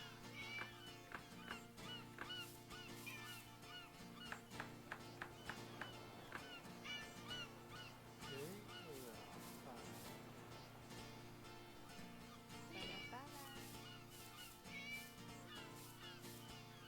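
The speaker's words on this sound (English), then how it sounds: "there's a lot of meowing going on here." A cat in a video game meows repeatedly, with several mewling calls of varying pitch over a continuous musical backdrop, and voices chatter faintly underneath.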